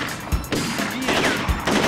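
Gunfire in The Getaway: Black Monday, a 2004 video game: a few sharp gunshots land amid dense, noisy in-game action, punctuated by low thumping impacts.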